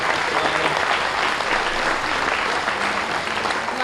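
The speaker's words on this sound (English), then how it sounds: "Let's start out by giving all the steer exhibitors a real nice round of applause for nice steer." A crowd at a county fair beef show applauds the steer exhibitors: dense, even clapping that holds steady and fairly loud for the whole stretch, with no voices over it.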